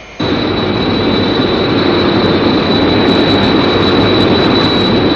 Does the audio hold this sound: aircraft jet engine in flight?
yes